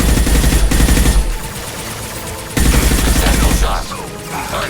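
Rapid bursts of gunfire from the Mass Effect 2 game, two loud volleys of automatic shots with a pause between them, then quieter combat sounds trailing off.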